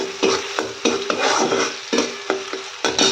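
Green chilies and vegetables frying in mustard oil, a loud close sizzle broken by repeated stirring scrapes and clanks of a utensil against the pan.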